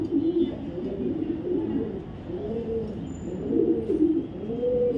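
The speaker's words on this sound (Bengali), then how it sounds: "আসলে ও এক জোড়া সবজি রেসার কবুতর" A pair of racer pigeons of the sobji colour variety coo close by in repeated soft, throaty rolling phrases that rise and fall steadily throughout, with no talk over them.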